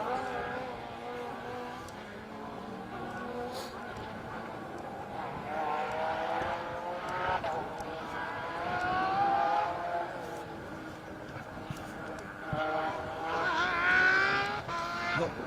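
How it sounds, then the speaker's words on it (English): A Porsche 997 rally car on a special stage at Rally Wervik, its engine rising and falling through the gears as it nears and passes, under continuous commentary, with crowd and ambient noise behind. "Tour van den Abela's Porsche 997 again."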